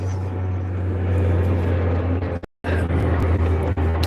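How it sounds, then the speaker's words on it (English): A Porter propeller airliner flying over an evening sailing spot, a loud, steady engine drone with a low hum that fills the whole stretch, briefly cutting out for a moment midway before returning. "You're in another plane flying over, so it's going to be noisy for a few minutes."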